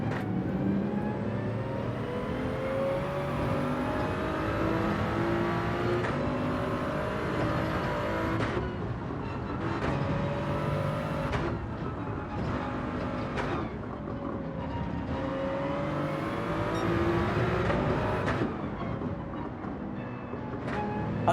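A Jaguar race car in Gran Turismo 7 accelerating hard, its engine note rising and dropping through repeated gear shifts, with other cars' engines layered beneath in a continuous loud roar.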